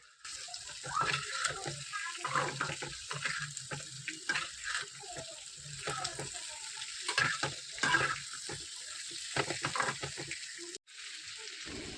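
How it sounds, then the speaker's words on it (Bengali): Flat beans with salt and turmeric are stirred in a frying pan, a steady sizzle with repeated scraping strokes of the spatula, close and fairly quiet, with no talking. "এবার ভালো করে নাড়াচাড়া করে নিচ্ছি।"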